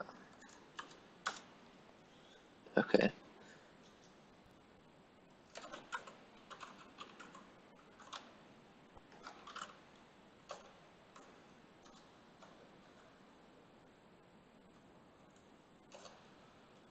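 A computer keyboard clicks in scattered bursts of typing, sparse keystrokes with one louder cluster, quiet and close in an otherwise still room, with a brief spoken word.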